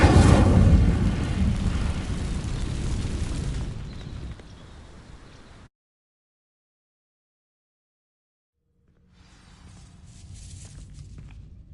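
An incendiary spell in a video game sets dry vines alight with a loud roaring whoosh and rumbling burst that fades over several seconds, then silence, then a quieter crackling return.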